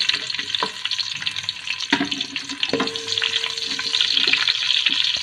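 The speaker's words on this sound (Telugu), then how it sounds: "దీంట్లో ఉల్లిగడ్డలు వేసుకుంటున్నామండి." Chopped onions frying in hot oil already tempered with cumin, mustard seeds and curry leaves, a steady close sizzle broken by a few sharp clicks and clinks from the pan.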